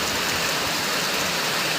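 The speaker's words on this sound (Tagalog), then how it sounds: "umiinit pero sobrang lakas ng ulan" Heavy rain pours at a gas station in Monteclaro, a dense, loud, steady hiss of rainfall with no pauses.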